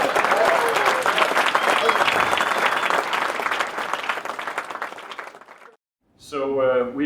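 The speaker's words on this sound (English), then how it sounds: "Big round of applause." An audience applauds guitarist John Petrucci at a signing in Guitar Center San Francisco, loud sustained clapping that fades out, followed by someone talking.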